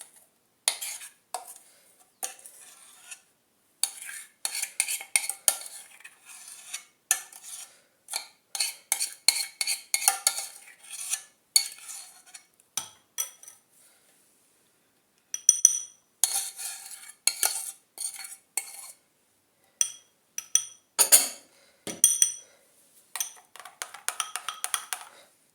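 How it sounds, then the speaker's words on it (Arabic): Natural hair dye, cooked black on the stove, is poured and stirred in a bowl with a utensil, giving repeated close clinks and scrapes in irregular bursts with short pauses and no talk. "غادي نجيب سلافه نخوي معاكم هاد الصباغه."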